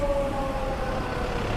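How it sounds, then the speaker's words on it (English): A police car siren wails on a city street in Fukuoka's Hakata district during the Yamakasa festival, a steady tone sliding slightly over a busy traffic rumble as the car makes a U-turn. "Police car doing a U-turn."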